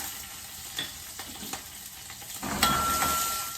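Cumin, crushed curry leaves and chopped green chillies hit a small amount of hot oil for tempering sabudana khichdi, with a soft stirring hiss that bursts into a loud, close sizzle near the end.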